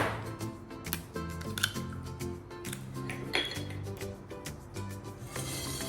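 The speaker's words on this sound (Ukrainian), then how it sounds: "Спочатку вибиваємо яйця. На цю порцію нам потрібно два яйця." Two eggs cracked into a bowl for banana muffin batter, with several small knocks, clinks and taps of shell and utensils against the bowl, close and quiet, with no voices.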